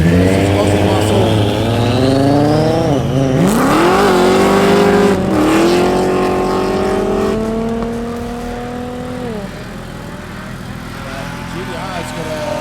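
Roll racing cars, a Japanese muscle car against an Australian one, scream past close and loud with rising and falling engine revs and gear changes, then fade as they pull away, with commentary spoken over the engine noise.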